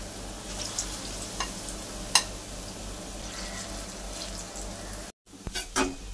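Potol pakora frying in oil, a moderate, steady sizzle with a few sharp pops and a brief drop to near-silence before the bubbling returns, heard close with no talking.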